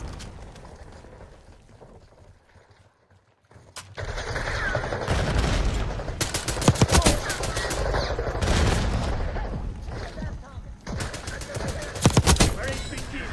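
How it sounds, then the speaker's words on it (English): Shootout in a Madden-streamed video game session: dense bursts of gunfire and rapid volleys in short clusters, loud and close, starting after a quiet lull and recurring with sharp peaks over continuous game noise. "HVT is taking fire."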